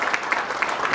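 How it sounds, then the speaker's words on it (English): An audience at a business networking conclave applauds in a brief burst of scattered, moderately loud clapping from a crowded hall. "A big round of applause"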